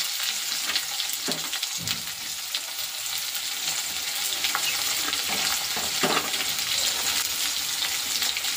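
Onion frying with whole cumin seeds in a kadai, a steady bright sizzle with a few scraping stirs, close and fairly loud with no talking.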